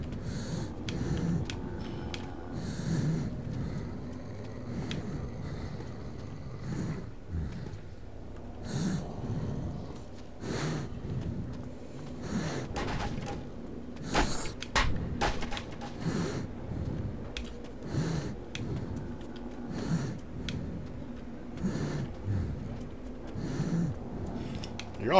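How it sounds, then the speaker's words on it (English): Artyom in the video game Metro 2033 breathing heavily through a gas mask: steady, rhythmic rasping inhales and exhales, close and continuous, with scattered footsteps and faint ambient game sounds behind. "You're all probably getting really tired of hearing Artyom constantly breathing"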